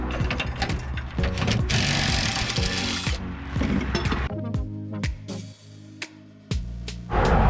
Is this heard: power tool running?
yes